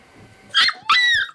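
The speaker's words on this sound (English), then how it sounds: "A diabetic alert dog." A diabetic alert dog gives two short, high whimpering yips close by, each a brief rising whine, with quiet pauses around them.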